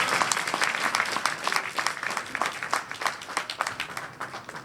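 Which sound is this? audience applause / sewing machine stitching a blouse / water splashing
audience applause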